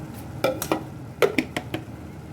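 Spoon stirring stewed cabbage with mushrooms, paprika, khmeli-suneli and bay leaves in a pot: a handful of soft scraping clinks against the pan in an uneven rhythm, moderately close, with no talking.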